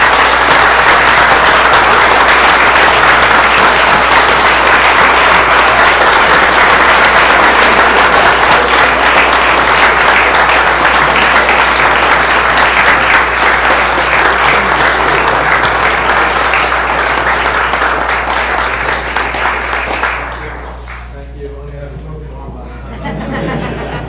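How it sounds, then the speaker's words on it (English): A committee meeting audience gives a long, loud, steady round of applause that holds for about twenty seconds, then fades quickly into quieter room sound. "then we'll thank you with one more big round of applause"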